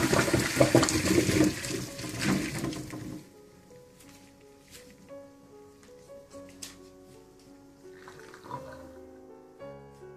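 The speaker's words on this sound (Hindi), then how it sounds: "अब इसका पानी मैं ड्रेन कर लूंगी।" Boiling water drains from a pot of potatoes in a gushing splash for a few seconds, then fades into scattered drips, clinks and light kitchen clatter.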